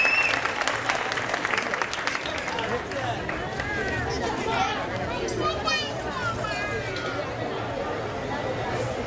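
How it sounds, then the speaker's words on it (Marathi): An audience claps together at a staged performance about the life of Chhatrapati Shivaji Maharaj, a steady, sustained wash of applause mixed with crowd chatter and scattered raised voices. "टाळ्या वाजवायच्या आहेत प्रेक्षकांनी."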